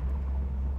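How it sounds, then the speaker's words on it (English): A 1928 Ford street rod with an aftermarket exhaust and mufflers drives along, its engine a deep, steady low rumble that stays close and loud throughout, with no talking. "The brakes feel good, the motor sounds great."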